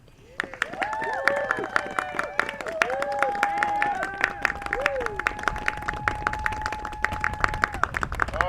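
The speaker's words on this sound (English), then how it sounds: "So all the band seniors here deserve a round of applause" Scattered applause and cheering from a crowd at a marching band senior night, with sharp claps popping over a murmur of voices and a sustained whistle-like tone running through the middle.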